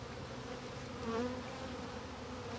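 Honey bees fly close around a beekeeper near their hive entrances, a continuous soft buzzing hum with one brief whine as a single bee passes by the microphone.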